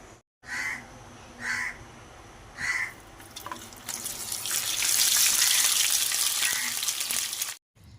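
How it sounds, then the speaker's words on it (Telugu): Pieces of boiled egg fried in hot oil for Telugu-style egg pickle, a steady broad sizzle swelling up loudly after a few short bursts of sputtering, with no voices. "కట్ చేసుకున్న ముక్కలన్నీ ఇట్లా నూనె వేడి చేసుకొని అందుట్లో వేసుకొని బాగా వేయించుకోవాలండి"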